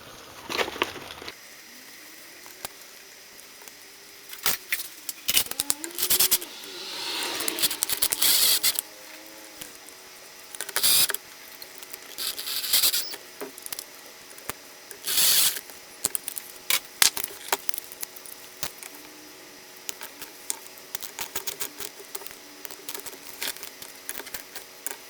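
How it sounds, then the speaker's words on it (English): Bolts being ratcheted in on a turbo CHRA during a Mazda CX-7 MZR 2.3 DISI turbo repair, bursts of close clicking ratchet strokes separated by pauses and small metallic handling noises. "and we'll install the bolts."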